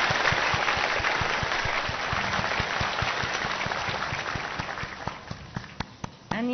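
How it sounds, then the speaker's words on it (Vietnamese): Dense audience applause at a Christmas celebration, loud and sustained with many overlapping claps, thinning toward the end into a few scattered sharp claps. "Xin hãy chào đón họ bằng một tràng pháo tay thật lớn."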